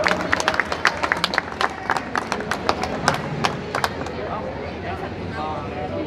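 A burst of clapping from a crowd at a eucharistic procession in Quito, sharp claps dense at first then thinning out, with voices murmuring underneath.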